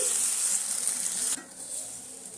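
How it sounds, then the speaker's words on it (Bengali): Date-jaggery chitoi pitha batter frying in hot oil, a bright steady sizzle that drops abruptly partway through to a quieter, gentler bubbling, heard close with no speech. "আবারও আমি এক হাতা ব্যাটার নিয়ে এইভাবে তেলের মধ্যে দিয়ে দিচ্ছি"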